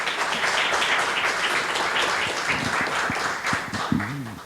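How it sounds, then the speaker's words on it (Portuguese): Audience applause after a technical talk on offshore geotechnics in Brazil, a sustained crowd clapping that fills the room, with a voice starting to speak toward the end. "parabéns, os aplausos já traduziram isso"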